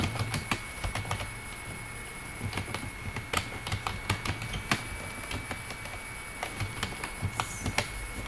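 Keys tapped on a computer keyboard while entering text into a bar chart in MS Word, a steady run of light, quick clicks with a faint hum behind them.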